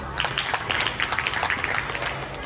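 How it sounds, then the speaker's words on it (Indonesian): A class of students claps for Isyam during a physical education lesson, producing a short burst of light, uneven applause at moderate distance. "Tepuk tangan untuk Isyam"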